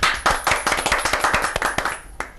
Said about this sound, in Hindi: आप लोगों ने ताली बजाई।